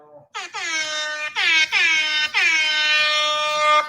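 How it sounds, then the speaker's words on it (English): Air horn sound effect blaring in several long, loud bursts with brief gaps between them, bright and brassy, standing alone without talk. "Air horn time."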